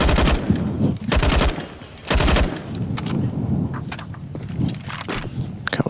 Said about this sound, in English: Couple of shots from Kicker down